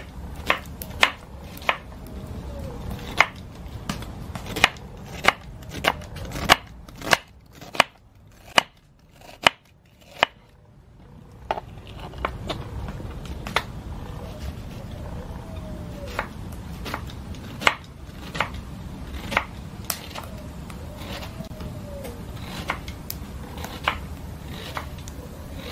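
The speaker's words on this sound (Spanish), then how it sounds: "vamos a picar la cebolla y los jitomates" A knife chops onion and tomatoes on a board for Mexican meatballs in broth, giving a long run of close, sharp, irregular taps with a brief pause partway through.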